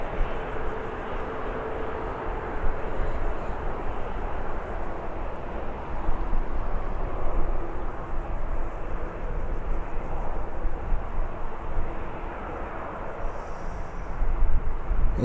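A Jet2.com airliner departs Birmingham Airport, a broad steady roar of jet engines that swells and holds through the whole stretch, heard from a distance with no talk over it.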